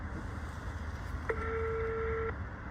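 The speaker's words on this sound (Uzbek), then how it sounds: "Hozir telefon qilaman-da." A telephone number is dialed, with a single clear touch-tone beep that holds for about a second at low level over a faint background hum, with no talking.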